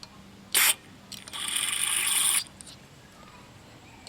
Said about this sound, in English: spray a little carb clean in there.